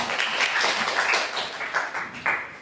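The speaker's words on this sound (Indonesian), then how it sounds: "Tepuk tangan dulu lah untuk kawan-kawannya." Students in a university mathematics classroom give their classmates a short round of applause: scattered, moderately close hand claps in a brief burst that fades toward the end.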